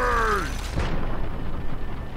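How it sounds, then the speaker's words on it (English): Grenades explode in the video game Fallout 3, producing a loud, deep boom that follows a fading tonal sound and then rolls into a rumbling, crackling tail. "So many freaking explosions."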